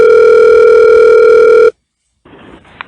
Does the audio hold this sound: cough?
no